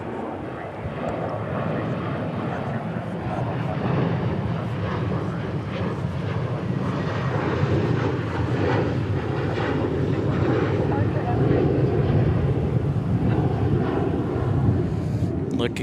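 An airplane runs along runway 36 Right at DFW International Airport at night, a loud sustained jet engine roar that swells slightly as it passes, with voices talking over it.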